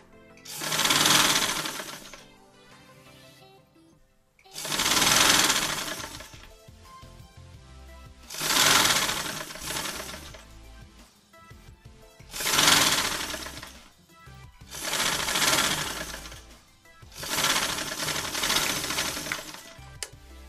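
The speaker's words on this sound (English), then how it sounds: "So I will start by sewing. And the sewing will go on a straight line." A sewing machine stitching a straight seam on cloth for a ruffled dress, heard in five loud whirring bursts of rapid needle chatter, each a couple of seconds long, separated by short quiet pauses.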